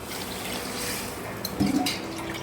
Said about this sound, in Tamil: அரை கிலோ ரைஸு ஒரு லிட்டர் தண்ணி ஊற்றிக்கலாம்